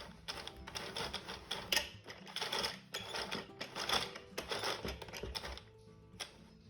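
A knitting machine carriage is cranked across a row with no yarn, giving a steady run of dense mechanical clacking and rattling bursts, close and fairly loud, with no one talking.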